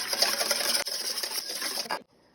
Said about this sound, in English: I'm going to go ahead and whisk these eggs up first